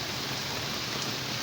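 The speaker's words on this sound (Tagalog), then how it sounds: "Grabe yung ulan, oh." Heavy rain falling steadily, a dense uniform hiss with no breaks or variation, moderately loud and heard without any voices.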